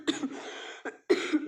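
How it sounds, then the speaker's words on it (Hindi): A person coughs several times in quick bursts, close and fairly loud, with brief pauses between. "बहुत खांसी आ रही है"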